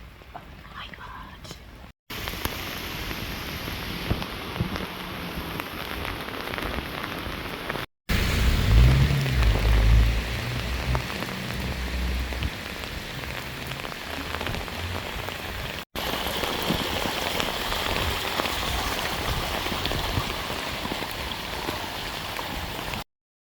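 Heavy rain pours steadily during Storm Amy in Ireland, a dense, constant roar of downpour on surfaces that swells louder in bursts, with some low rumbling gusts midway.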